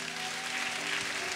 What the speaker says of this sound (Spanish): Dele un aplauso entonces.